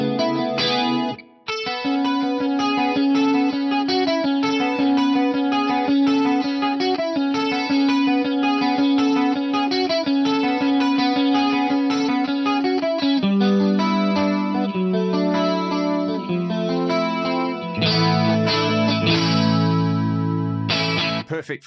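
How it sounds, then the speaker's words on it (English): Electric guitar run through a Japan CE2 chorus plugin modelled on the Boss CE2 at stock settings, playing a steady picked riff with shimmering, wavering modulation; loud and continuous, alone with no talking. "let's say we go to a classic chorus like the Japan CE2 based on the Boss CE2, this one sounds really lovely"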